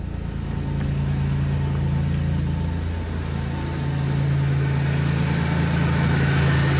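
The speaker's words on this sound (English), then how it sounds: "Smooth running engine." A 2000 Toyota Tacoma with about 78K miles idles after a cold start, its engine giving a steady, smooth, close hum with a constant low drone and no revving, with no voices over it.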